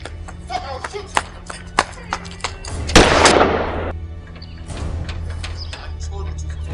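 Gunfire in a Nigerian Yoruba movie scene: a sharp loud shot followed by a burst of noisy blast and echo, amid scattered impacts and tense voices shouting.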